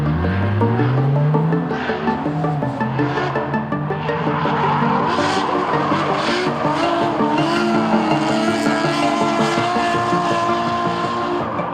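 A drift car corners hard on a mountain track in Japan, its engine revving up and down while the tires squeal loudly and continuously through the slide, close and without speech.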